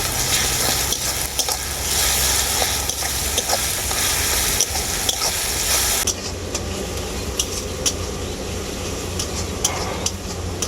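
Garlic paste frying with onions in a pan, a loud continuous sizzle with occasional stirring scrapes, easing to a quieter sizzle partway through, no talking.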